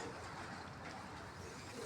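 Soft, low cooing of pigeons over a steady background hum, a few murmuring calls close by.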